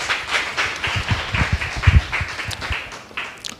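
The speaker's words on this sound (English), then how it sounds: "please give her a round of applause" A church congregation claps in a dense, irregular patter that stays fairly loud throughout, then thins out near the end.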